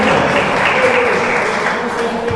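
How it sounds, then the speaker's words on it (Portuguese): A church congregation applauds during a sermon, a broad continuous wash of clapping hands filling the hall, loud and unbroken, with a voice faintly present underneath. "Você pode dar uma salva de palmas para Ele"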